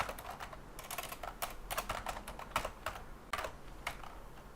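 Steady typing on a non-membrane computer keyboard, a run of crisp clicky keystrokes in irregular bursts with short pauses, heard close up and fairly quiet, with no voices.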